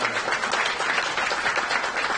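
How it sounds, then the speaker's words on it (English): Applause from an audience at an Atlanta, Georgia event on combating gun violence, greeting AmeriCorps partners: a dense, steady wash of many hands clapping at once, sustained and fairly loud throughout with no talk over it. "please give them a big round of applause"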